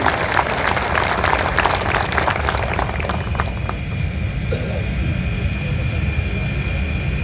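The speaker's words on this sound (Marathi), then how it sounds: "बसल्या ठिकाणी जोरदार टाळ्या वाजवणं मात्र शक्य आहे" Clapping from a seated audience at a court inauguration ceremony in Degloor fades after a few seconds into a steady hum, with a voice talking over it.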